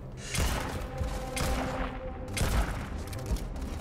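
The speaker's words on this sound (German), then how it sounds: "Ah, der Schuss war irgendwie daneben." Weapon fire in the video game Starfield, a series of heavy, booming shots in quick bursts with deep thumps and bright cracks, repeating roughly every second over a rumbling background.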